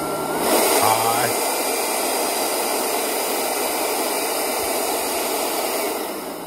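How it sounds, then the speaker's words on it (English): A Ryobi 18-volt workshop blower runs on high speed, a loud steady rushing whoosh of air that holds continuously and close throughout, easing slightly at the very end. "Not a bad little blower."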